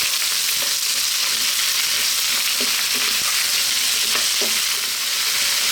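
Minced garlic and ginger fry loudly in a pan, a dense continuous sizzle broken by a few light clinks and scrapes as the spoon keeps them moving. No voices.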